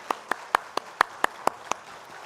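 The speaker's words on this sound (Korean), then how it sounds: "하나님께 영광의 박수 올려드리겠습니다." Slow, evenly spaced claps ring out in a church service, about nine distinct hand claps in steady rhythm, close and clear with a slight room echo.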